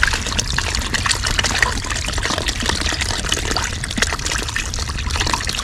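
Cold mountain creek water pours and gurgles steadily into a container being filled, a close, continuous splashing trickle with no talk.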